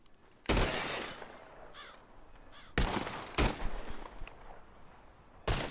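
Revolver shots at bottles in Red Dead Redemption 2, four sharp separate cracks spaced a second or two apart, each followed by a ringing tail over a quiet outdoor background.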